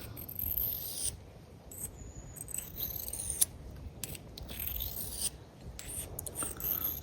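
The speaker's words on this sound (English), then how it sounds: "very, very light pressure, just to realign the burr at the edge" A knife edge given light, repeated passes on a sharpener to realign the burr, a steady scraping rasp that rises and falls with each stroke, fairly close and continuous with no talk.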